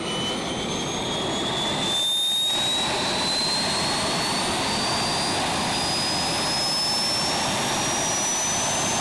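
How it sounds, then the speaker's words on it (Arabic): A jet kart's engine spools up with a loud, rising turbine whine over a dense roar, the pitch climbing steadily across the whole stretch, close and without voices. "طبعا المحرك مش بيشتغل بسرعة لأن الوقود بياخد وقت عقبال ما يوصل للمحرك"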